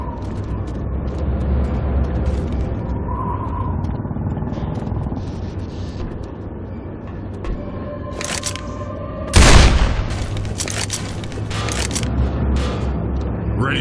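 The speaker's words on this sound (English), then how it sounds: "We can fire that big ass gun to break the barricade." The big gun fired to break a barricade in Left 4 Dead 2's Crash Course alleys: one heavy, booming shot late in the clip with a sharp crack, set over a steady low rumble of game background and scattered clatter.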